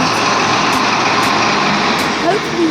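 A Class 43 HST pulls into Stepford Central in the Roblox game Stepford County Railway, giving a steady loud diesel engine drone with a faint rising squeal near the end.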